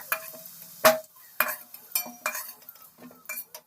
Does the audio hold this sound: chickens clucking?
no